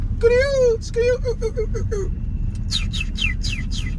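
Inside a car driving through a West Savannah, Georgia neighborhood, a human voice imitates birdsong: a sustained whistled note, then a quick series of chirps and descending tweets, loud and close over engine rumble.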